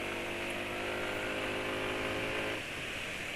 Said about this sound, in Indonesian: suara troknya motor penulis jadi makin kencang ya